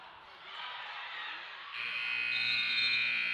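At a 1A girls high school state tournament basketball game, a loud steady electronic buzzer sounds over crowd noise in the gym, ending the quarter.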